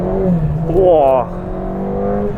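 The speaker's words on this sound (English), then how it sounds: "as soon as you touch the throttle, it just understeers and wheel spins" A Seat race car on a wet track under throttle, engine note rising and straining as the wheels spin, close and loud beneath someone talking over it.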